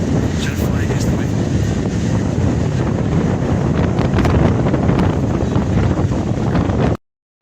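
Strong outdoor wind in Rio buffets the microphone with loud, continuous rumbling gusts, close and harsh, apparently near water, before cutting off abruptly at the end.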